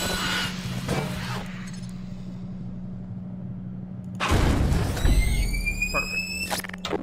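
A sticky bomb blows up on contact in Half-Life 2 Episode Two: a steady low hum, then a loud burst of explosion noise, followed by shrill rising squeals and a final crack.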